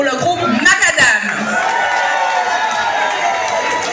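An audience cheers and applauds at an outdoor show, a steady roar of crowd noise that follows a few brief shouts.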